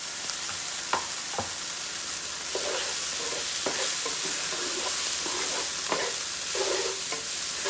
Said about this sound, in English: I'm going to drop in about a tablespoon of butter.